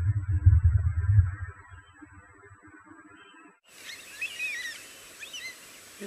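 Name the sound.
birds calling and chirping outdoors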